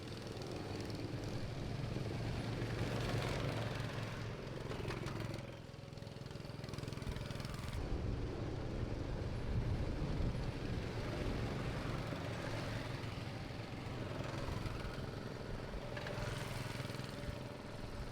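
A steady, droning video game vehicle engine hums continuously at moderate level, with slight dips and surges in pitch as it runs on without pause.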